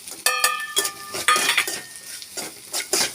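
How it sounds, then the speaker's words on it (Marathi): Spices such as coriander-cumin powder, asafoetida, red chili powder and turmeric are stirred in hot oil. A spoon clinks and scrapes against the pan in short irregular strokes over a light sizzle. "आता आपण हे मसाले तेलामध्ये परतून घेणार आहोत"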